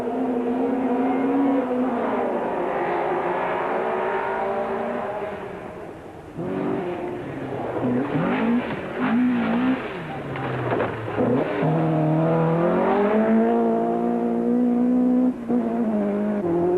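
A Ford Escort Cosworth rally car on a snowy 1993 rally stage, its engine rising and falling through gear changes with a dip mid-run, under a commentator's voice.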